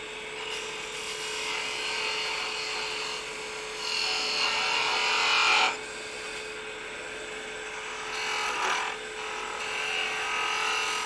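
A woodturning lathe spins a spalted candle stick as a tool cuts a bead, giving a steady high whirring scrape with a constant motor hum, louder in a few pushes of the cut, close and without talk.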